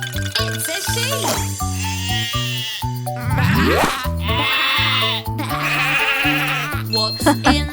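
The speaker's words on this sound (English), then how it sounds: "It's a sheep." A sheep bleats in a children's nursery song, its wavering cries loud and close over a bouncy backing track with singing and jingly chimes.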